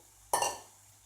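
A metal spoon strikes a pan once while boiled peas sundal with turmeric is stirred, a single bright clink that rings briefly and fades in an otherwise quiet kitchen.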